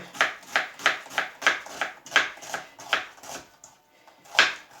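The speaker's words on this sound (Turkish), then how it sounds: "Şimdi soğanını, biberini doğrayacağım." A knife chops onion and pepper on a cutting board in a quick, steady rhythm of about a dozen close, crisp strikes, with a short pause near the end.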